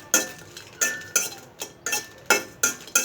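Dry red chillies are stirred in a pan over low heat, a utensil striking the metal in distinct, roughly regular clanks and scrapes, about eight close, loud hits with no voices.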